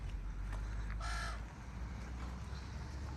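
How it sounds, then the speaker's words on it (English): Big crows in a roadside tree give one clear, harsh caw, heard from a car on a summer road trip with a steady low engine and road hum underneath. "There's some big crows or something. You hear them in the tree."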